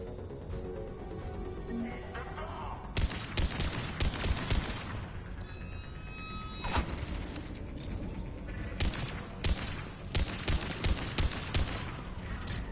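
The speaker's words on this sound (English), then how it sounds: "this gun's got a very loud sound to it" Loud, repeated gunfire from a weapon in the video game Mass Effect 3, with rapid bursts and sharp individual shots coming close together over a dense, noisy combat backdrop.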